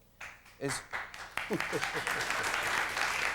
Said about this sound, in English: 3 people applauded